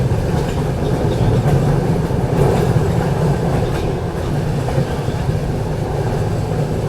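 Telangana Express running on rails, a steady loud rumble with continuous wheel and carriage noise and faint rhythmic clatter, heard from close by throughout.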